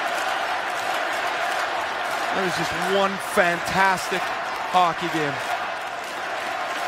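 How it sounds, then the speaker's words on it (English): A Montreal arena crowd applauds Team Canada after the 2017 World Junior hockey final against the USA, a steady roar of clapping and cheering beneath a commentator's voice. "And this Montreal crowd now saluting Team Canada."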